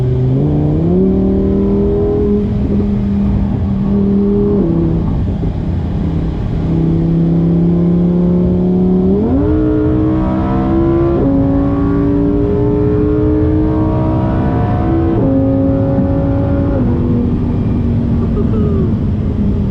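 A sports car engine, mounted behind the cabin, drones loudly and steadily from inside, its pitch climbing through several gear shifts as it accelerates, with voices underneath.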